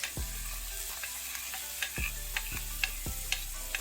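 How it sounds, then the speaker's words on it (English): Ingredients for ackee and saltfish sautéing in a pot, a steady close sizzle with a low hum beneath it and several sharp utensil knocks and scrapes spaced through it. "So this is gonna saute"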